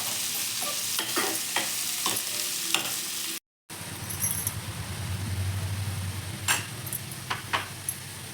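Vegetables and sweet corn being stirred in a pot for a sweet potato soup, scraping and clinking spoon strokes at irregular intervals over a soft sizzle, briefly cut off midway, then resuming with a low rumble.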